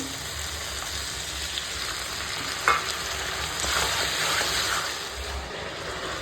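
Beaten sour yogurt goes into a spice masala frying in a karahi, a steady close sizzle and crackle of the hot mixture with a brief clink near the middle and a swell of bubbling toward the end.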